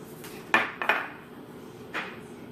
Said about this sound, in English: Now I'm going to add chopped onions,